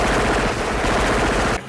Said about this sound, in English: that's a machine gun.